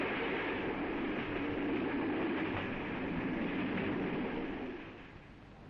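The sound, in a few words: trains running on the Dutch railroad, 1950s film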